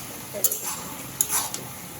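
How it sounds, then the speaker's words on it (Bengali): Bottle gourd curry cooks in a pan under a low sizzle, with a few quick scrapes and light clinks of a spoon as it is stirred, fairly close and brief. "এই যে আমাদের তরকারি রান্না হইতেছে"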